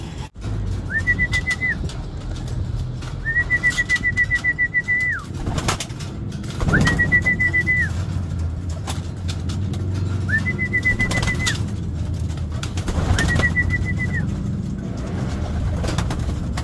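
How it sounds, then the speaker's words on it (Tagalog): Pigeons in a small home loft fitted with perches coo and call, with repeated whistling notes sounding several times among soft rustling and fluttering, close by. "Ngayon, papasukin natin itong mga ibon natin."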